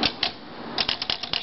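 Keys strike on a 1942 Royal Quiet De Luxe typewriter with black crackle finish and glass-topped keys, a few sharp close clacks in a quick uneven rhythm with a pause in between.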